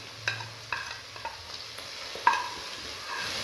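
Dry coriander and cumin are stirred into palak gosht in a pan, giving a soft steady sizzle with a few scraping spoon strokes, close and fairly quiet.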